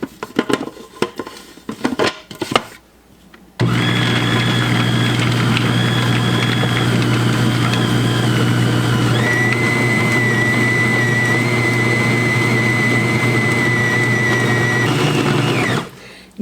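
A KitchenAid-style stand mixer churns oatmeal cookie dough with a pound of chopped dates, oats, pecans and coconut, a steady loud motor whine with a shifting high tone running for over ten seconds after a few clunks.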